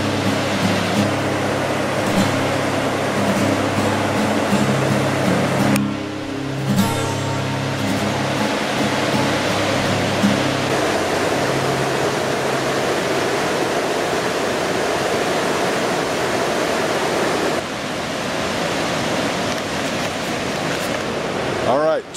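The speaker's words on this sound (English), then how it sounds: "Raging torrent down there." Loud, steady rush of a raging torrent churning below a hiking trail, a continuous broadband roar filling the whole stretch with no letup, close and dominant.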